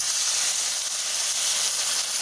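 Steady, loud hiss of about two cups of water hitting a hot pan, a continuous sizzling steam roar with no pauses and no talking.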